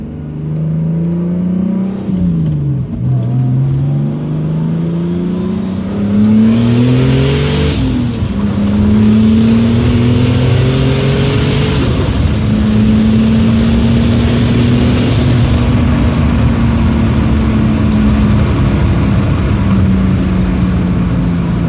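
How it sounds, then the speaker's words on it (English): A turbocharged BMW E46 engine runs loud and close, its drone rising and falling through several revs with a steady rough rumble underneath. "I'll put a video of this car running real quick."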